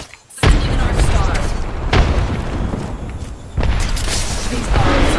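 A frag grenade detonates in a battle-royale video game, a loud broadband boom rolling into sustained rumble, followed by further heavy blasts and dense gunfire-like din across the few seconds.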